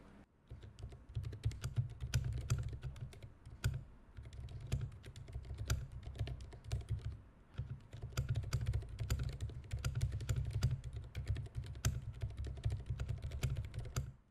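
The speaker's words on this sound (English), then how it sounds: "I'm getting quite used to the thump that the silent switches tend to feel like when they bottom out" Steady typing on a Vortex Tab 90M mechanical keyboard fitted with silent switches, producing soft, muffled thumps as keys bottom out in a continuous close rhythm, with brief pauses between bursts and no talking.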